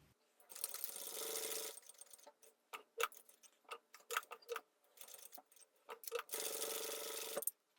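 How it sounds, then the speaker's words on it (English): A sewing machine stitches a seam on a bucket bag, running in a short burst, pausing through a series of clicks and taps while reversing to backstitch, then running again in a final burst. "I'm going to very carefully backstitch once."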